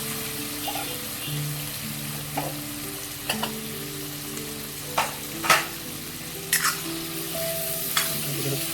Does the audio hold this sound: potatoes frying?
yes